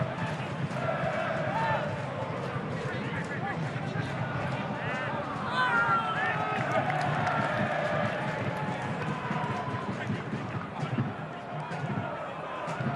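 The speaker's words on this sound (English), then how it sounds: "The Glory fans in full voice." Perth Glory football supporters in a stadium during an A-League match against Macarthur FC, a continuous roar of crowd voices and chanting filling the background from start to finish, fairly distant and steady.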